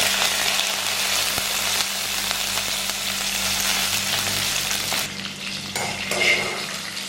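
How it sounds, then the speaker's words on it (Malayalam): Loud, steady sizzling of curry leaves and dried red chilies frying in hot oil, with a few stirring scrapes and the hiss easing slightly near the end. "കുറച്ച് വേപ്പിലയും വറ്റൽ മുളക് കൂടി ഇട്ട് കൊടുത്ത് ഒന്ന് വഴറ്റാം"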